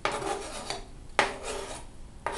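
Three sharp clatters of chopped bracken fern dropping into a metal pot, each followed by a rustling, scraping settle; no voices.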